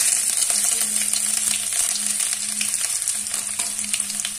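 Chopped ginger fries in hot oil with cumin seeds already in the pan, giving a steady close sizzle and spatter with faint stirring clinks, no talking.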